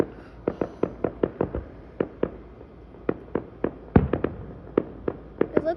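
Canada Day fireworks crackle in a string of sharp, separate pops and bangs at irregular intervals, moderately distant and fairly faint, with no talking.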